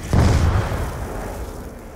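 A ray gun fires in a zombies video game, a single punchy boom near the start with a low thump that decays into a rumbling tail over the next second and a half.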